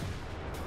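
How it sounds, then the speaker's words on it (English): A grenade blast in the shooter game Wolfenstein: The New Order, heard as a dense, loud, sustained low rumble of explosive noise lasting under a second, with no speech over it. "Oh, grenade!"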